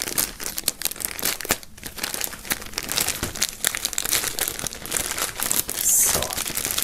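A shirt and a music album are pulled out of shrink-wrap plastic foil, with dense close crinkling, crackling and tearing throughout.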